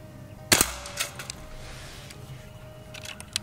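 Beeman Underlever .177 PCP air rifle firing a single sharp, close crack at a can, followed by a few faint distant ticks and quiet ambience.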